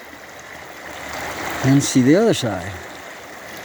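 Creek water flowing steadily outdoors along Lynx Creek, a continuous soft hiss running beneath a man's speech.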